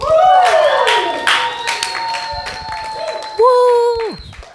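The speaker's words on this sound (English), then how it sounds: "That's the best applause I've gotten all day" A church audience gives loud applause mixed with whoops and rising cheers, the clapping steady underneath while excited voices call out over it.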